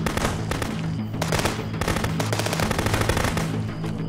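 Rapid bursts of automatic gunfire ring out in the video game Contraband Police, loud dense volleys with brief gaps and overlapping shots, sustained through the whole stretch.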